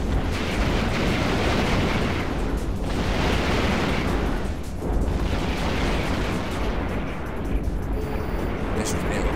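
Spaceship blowing up in a video game, a sustained roaring blast of dense rumbling noise that swells and surges in waves, loud and close throughout with no pauses.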